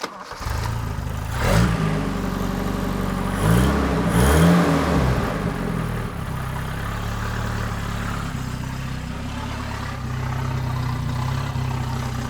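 Toyota Celica RA28 engine running with only half an exhaust and no air cleaner, starting up and revving in a few sharp bursts before settling into a rough, steady idle, loud and close with no talking.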